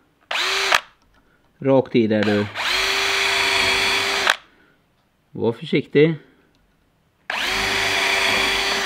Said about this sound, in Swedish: Och så borrar du med 2 mm borr.